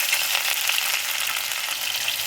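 Cumin, curry leaves, ginger and chili frying in hot oil for a village-style baingan bharta, a bright, continuous crackling sizzle, close and even, with no voices.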